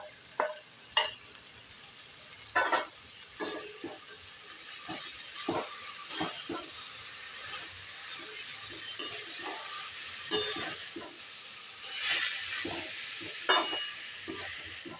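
Boiled plantain flower and black chickpeas stirred into sizzling spices in a pan, with a constant frying hiss and repeated scraping, clinking stirring strokes close by.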